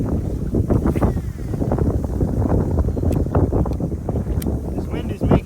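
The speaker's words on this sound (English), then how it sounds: "This wind is making it difficult, but we're grinding through it." Steady strong wind buffets the microphone on a fishing boat, a continuous low roar under light handling noises and faint talk, with a few brief clicks and knocks.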